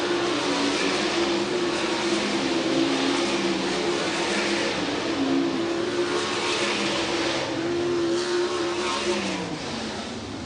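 World of Outlaws NOS Energy Drink sprint cars run hot laps at River Cities Speedway, a steady, loud engine drone that shifts pitch as the cars circle the track.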